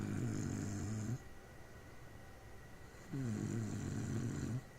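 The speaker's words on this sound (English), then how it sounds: "This is just another video of Ricky snoring." Ricky snoring in a recorded clip: two long, loud snores with a pause of quieter breathing between them, close and clear with no talk.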